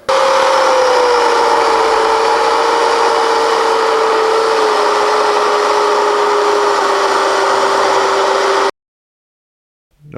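Power tool cutting a walnut bowl blank indoors at an angle, a steady loud whining drone with a sustained tone running for about nine seconds before stopping abruptly.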